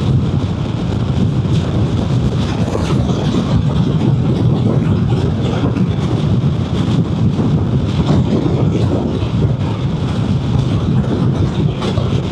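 Strong wind buffeting a rider on a Vespa GTS 300 scooter along an open road, a loud, continuous roaring rush of air over the microphone that never lets up.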